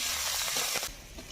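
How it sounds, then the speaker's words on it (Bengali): Chopped onion drops into hot oil already tempered with cumin, dried red chilli and bay leaf for a fish curry, giving a close, steady sizzle that swells near the start and then eases to a softer fry. "এবার কেটে রাখা পেঁয়াজটা দিয়ে দিচ্ছি"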